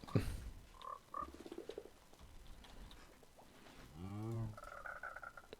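Minecraft frogs croak in a video game, with a series of short, tonal, bubbly croaks and ribbits coming one after another against a faint ambient background.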